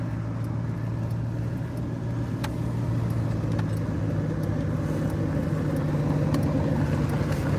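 A car is driven at a steady pace, with a continuous low engine and road drone heard from inside, broken only by faint occasional clicks.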